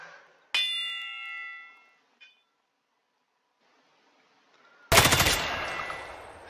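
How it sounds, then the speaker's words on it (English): Loud, close gunfire bursts from a Roblox shooter game: a sharp shot with a ringing metallic tail, a brief faint click, silence, then a dense burst of rapid fire. "So I gotta shoot the criminal, but not the hostages."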